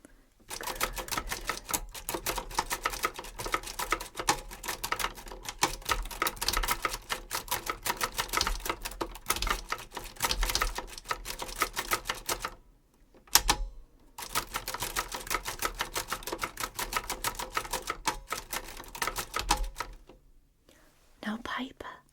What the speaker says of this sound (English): this is a certain type of typewriter